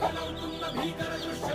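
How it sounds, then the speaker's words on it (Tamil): A chicken clucks softly in a few short, close calls over a low background. "ரொம்ப டஃப்பு கொடுக்குது இந்த கோழி"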